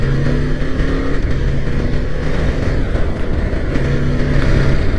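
A motorcycle cruising in fifth gear at 52 km/h gives a steady, loud engine drone with a constant hum and wind rush, without changes in pitch and no voices.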